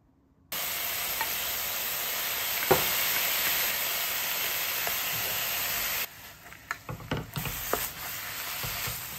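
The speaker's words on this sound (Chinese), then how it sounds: "倒入绿豆芽翻炒片刻" Red chili strips and mung bean sprouts stir-fried in a wok for beef chow fun, a steady sizzle with scraping spatula strokes, then a quieter stretch of sharp clanks and scrapes.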